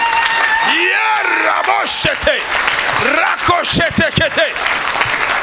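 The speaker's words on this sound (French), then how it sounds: "Est-ce qu'on peut acclamer pour le prophétique?" Church congregation applauding and cheering, loud clapping mixed with whoops, yells and rising shouted voices, close and lively with several people calling out over the applause.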